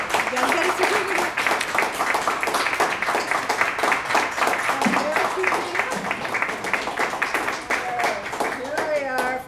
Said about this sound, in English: So let's give a round of applause for Jane